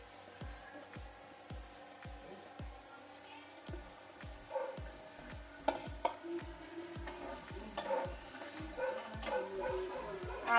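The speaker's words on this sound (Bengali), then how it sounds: "আমি ভালো করে মশলাটা কষিয়ে নিচ্ছি।" Spice paste with taro pieces frying and being stirred in an oiled pan, a steady close sizzle broken by regular rhythmic scraping strokes of the spoon, with no talking.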